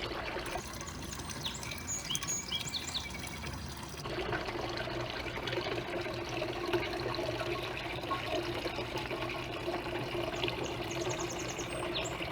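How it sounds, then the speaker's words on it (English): Continuous splashing and trickling water from a small fountain in a small backyard garden, steady and soft, with faint bird chirps in the background. "The water fountain that give a nice sound here in the small backyard."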